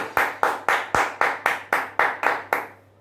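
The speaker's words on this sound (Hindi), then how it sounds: "एक बार खुद के लिए जोरदार तालियां दोस्तों, जोरदार और जोर से।" At a business seminar, the crowd claps in unison, about ten loud, evenly spaced claps roughly a quarter second apart, each ringing briefly in the room, before the sound fades out.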